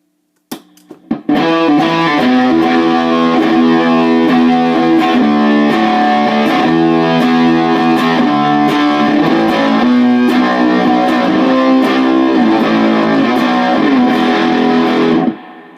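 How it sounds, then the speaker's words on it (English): A distorted, fuzzy electric guitar through a fuzz pedal plays a sustained chordal riff for about fifteen seconds, loud and steady, then cuts off abruptly. "Alright, a little bit of fuzz."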